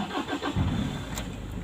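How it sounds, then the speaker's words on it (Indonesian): A car engine cranks briefly and catches, settling into a low steady idle close by. "Sekarang saya akan hidupkan mesinnya."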